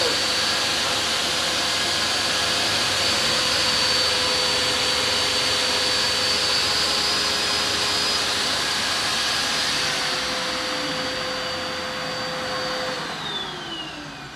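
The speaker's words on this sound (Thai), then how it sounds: "เอาตัวแวคคัมนะครับ แล้วก็ตัวเครื่องมือก็คือเลื่อยตัวนี้เสียบเข้ากับตรงนี้นะครับเปิดปิดสวิตช์นะครับ" A portable vacuum dust collector runs hooked up to a saw, giving a loud, steady whooshing whine with a fixed tone. It holds evenly for about thirteen seconds, then winds down and fades.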